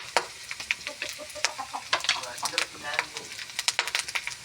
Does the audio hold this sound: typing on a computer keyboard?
no